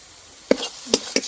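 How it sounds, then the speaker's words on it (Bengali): Motichur laddu mixture is stirred with ghee in a pan, giving three soft, brief scraping strokes at a steady pace, close and fairly quiet, with no talking. "ঘি দিয়ে ভালো করে আবার একবার নেড়ে নেব"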